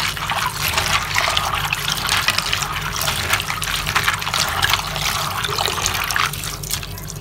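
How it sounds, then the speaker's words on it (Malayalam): Water is poured over dried tapioca in a vessel to rinse it, a loud, continuous splashing gush close by that keeps going without a break and without speech. "ആദ്യം നമുക്ക് ഇത്തിരി വെള്ളം ഒഴിച്ച് കരി കളയണം"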